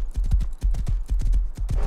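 Horse hooves clip-clop in a video game, a quick, loud, close run of uneven hoofbeats with no pause, heard alone.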